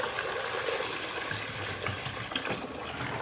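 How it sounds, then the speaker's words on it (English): Water is poured into a bucket for a portable van shower, a continuous splashing and gurgling rush that stays fairly steady throughout, with a few small irregular sloshes near the end. "And then all this is you just pour some water in here."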